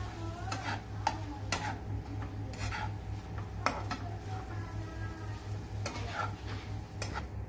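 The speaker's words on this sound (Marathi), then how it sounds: "हे भाजीचा कच्चेपणा जाऊपर्यंत मी हे फ्राय करून घेते।" Vegetables with chilli frying for a rava poha paratha, a soft sizzle broken by repeated sharp clinks and scrapes of a utensil stirring in the pan, with a low steady hum beneath.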